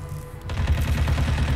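Dual pistols firing in Hitman Absolution, a quick cluster of loud, punchy game gunshots in rapid succession that fills most of the short moment, with no talking over it.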